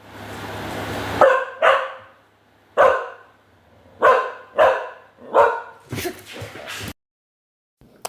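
A dog barks loudly and close by, with a burst of about eight sharp woofs in uneven rhythm after a short stretch of background noise, then falls silent.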